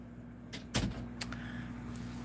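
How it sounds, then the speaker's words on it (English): A door is pushed shut indoors with a single solid thud, followed by a few lighter knocks and rattles against a low steady hum. "Shut the door."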